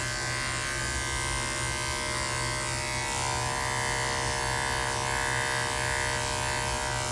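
Electric clippers buzz continuously and close up while shaving a matted Shih Tzu during a dog rescue, a steady droning hum with no pauses.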